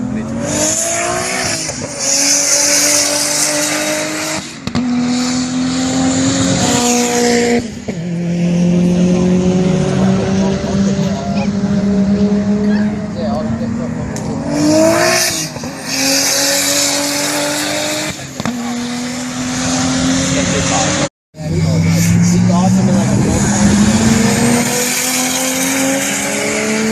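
A turbocharged MKIV Toyota Supra laps a race track, its engine loud and close, revving hard with rising pitch sweeps through the gears, brief lifts between shifts and occasional tire squeal.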